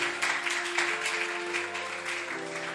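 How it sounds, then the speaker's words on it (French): Congregation members at a church seminar applaud warmly, a dense continuous wash of clapping over sustained keyboard-like chords, fairly loud throughout. "Est-ce qu'on peut acclamer pour le Seigneur?"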